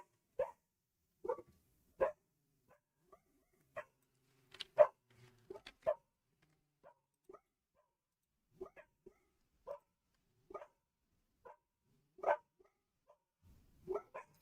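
Dogs barking from nearby, heard as scattered short barks and yips spaced out over a quiet background, some louder than others.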